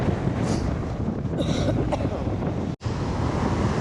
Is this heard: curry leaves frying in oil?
no